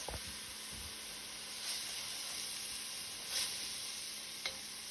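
Onions with salt soften in a pan, giving a steady close sizzle with faint occasional stirring scrapes and no voices.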